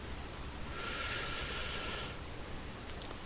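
Deep inhalation during a guided breathing exercise, a single broad airy breath drawn in steadily for about a second and a half, close and fairly quiet, with no talking over it.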